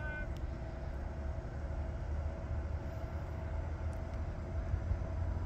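A train heading to Chicago rolls past at a Midwest rail crossing, producing a continuous broad rumble and rail noise at steady loudness from start to finish, with no talk.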